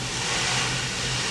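Steady roar of street traffic with cars passing on wet pavement in the rain, a continuous broadband hiss of tires on water over a low engine rumble, close and fairly loud, no voices.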